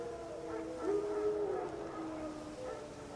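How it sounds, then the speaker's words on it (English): Wild dogs howl in The Witcher 3 video game, a drawn-out, wavering cry that rises and falls, faint and distant over a low ambient background, with no talking. "Wild dogs. Yes. More dangerous than wolves."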